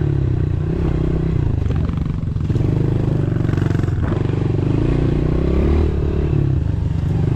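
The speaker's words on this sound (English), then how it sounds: "I ride my pitter through the night" Pit bike engine droning steadily during a night ride, a continuous close buzzing engine note with rattling and clatter throughout.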